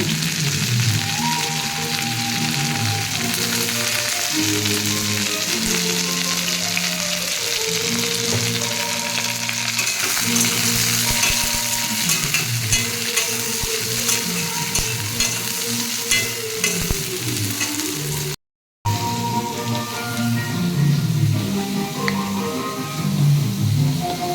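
Onions and green chillies fry in oil for an okra and bitter gourd dish with fish roe, a steady dense sizzle running throughout with no talking, broken by one brief dropout near the end.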